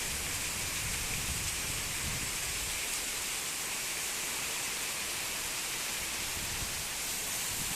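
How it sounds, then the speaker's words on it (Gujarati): Heavy rain pours down in Banaskantha district, Gujarat, amid flooding, in a steady, dense hiss that continues unbroken throughout, with no voices. "હાલમાં અતિશય ભારે વરસાદ પડી રહ્યો છે"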